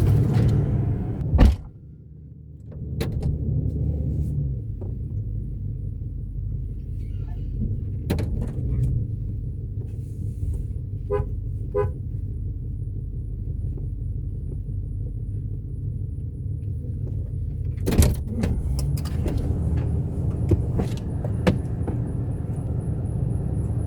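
A 2007-2013 Toyota Tundra pickup rolling down the road, a steady low engine and road rumble heard from inside the cab with occasional clicks and thumps, continuous and moderately loud.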